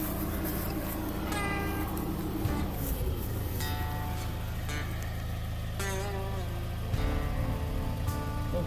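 A vehicle engine idles at a homemade dirt track under construction, giving a steady, even low rumble that runs unbroken throughout, with a few brief higher squeaky tones over it.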